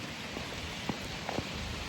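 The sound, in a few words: rain falling while walking outdoors among trees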